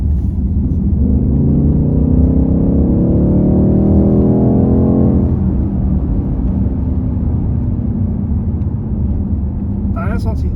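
BMW electric or hybrid car accelerating on the Dreux circuit, a rising whine climbing steadily for several seconds over road rumble, then settling into steady cruising noise, with people talking throughout.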